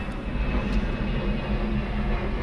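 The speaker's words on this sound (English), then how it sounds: "Sorry for this plane, it's super loud." An airplane passes overhead during work on a BMW 135i interior, a loud continuous engine roar with heavy low rumble that holds steady throughout and drowns out everything else.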